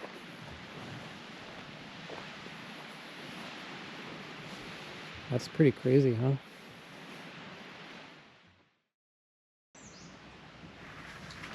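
Steady broadband wash of Lake Superior waves and wind at a lakeside campground right on the water, with a voice briefly over it before a short silent gap.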